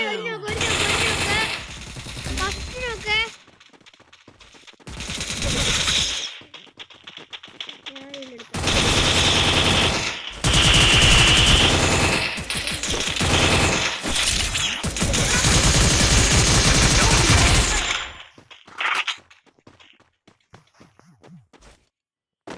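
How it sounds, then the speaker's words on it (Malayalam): Free Fire Clash Squad gameplay with repeated bursts of rapid automatic gunfire in several long volleys separated by quieter gaps, while a player talks between and over the shooting. "ഞാൻ ഇങ്ങോട്ടൊക്കെ വെടിവെക്കുന്നുണ്ട്."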